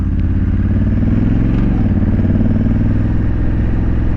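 A Honda Africa Twin DCT CRF1100L motorcycle ridden in sport mode gives a loud, steady engine drone from close by, with a slight pitch shift partway through under constant wind rush.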